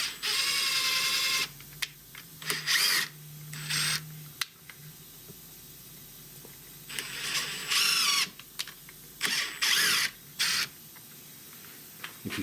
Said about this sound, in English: Now I take my old starter screw and I'll run some threads in there.